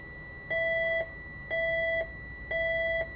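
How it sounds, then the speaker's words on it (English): A low air pressure warning buzzer on a MARTA bus during an air brake test sounds three steady electronic tones, each about half a second long, repeating at a regular one-second rhythm, clear and close. "When it gets there, you'll hear a buzzer, low air pressure light buzzer"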